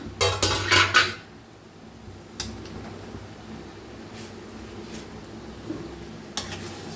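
A pan lid lifts off with a clatter, then a spoon stirs cooked potato and cabbage vegetable, giving soft scrapes and a few light metallic knocks under a quiet background hum.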